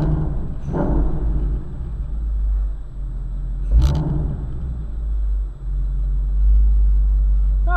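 A Ford Mustang GT350 in sport exhaust mode gives a deep, steady, close-up exhaust rumble with a couple of short throttle blips, with no talking.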